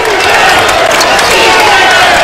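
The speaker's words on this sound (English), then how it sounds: "Crowd really getting into it now." A basketball crowd at a men's college game cheers and roars loudly and continuously, a dense wash of voices and some clapping filling the arena without pause.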